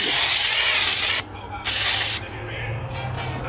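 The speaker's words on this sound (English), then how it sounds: "All you need to do is spray your brick with this removable snow stuff." An aerosol can of removable fake snow sprays in long hissing bursts onto brick, stopping briefly twice, then a softer steady spray continues with short pauses.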